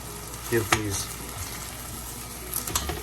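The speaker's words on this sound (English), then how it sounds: "give these thighs a flip. We're gonna be flipping some thighs here." Chicken thighs with mustard, lemon and barbecue sauce being flipped in a hot pan, a steady sizzle broken by a couple of clattering scrapes and thumps as the pieces are turned.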